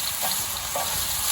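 Meat frying in a pot for a rice with pigeon peas and green plantain dish, a steady close sizzle with soft crackles and no talking.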